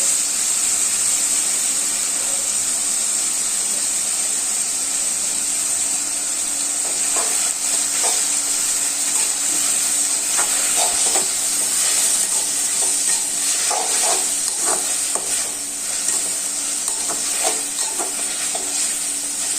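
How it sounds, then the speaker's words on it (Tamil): Chicken gravy ingredients sauté in a pan with turmeric powder, a steady close sizzle broken by the repeated scrape and clatter of stirring, with no voices. "இது கொஞ்சம் நல்லா வதங்கட்டும்"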